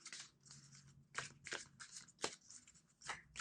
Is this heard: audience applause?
no